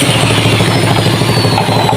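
A small water pump engine runs on LPG bottled gas with its cover still off, a loud, close, steady rapid chugging putter that fills the whole moment without talk.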